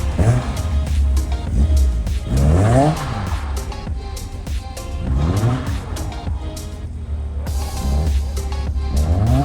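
A car drifting on a track with tires skidding and squealing through repeated slides while the engine revs hard and rises and falls, loud and close throughout.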